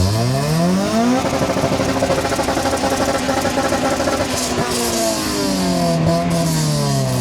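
A race car engine at a cone-course event revs up and down, loud and close, with rising and falling harmonic sweeps and a rough, throbbing exhaust note, no voices over it.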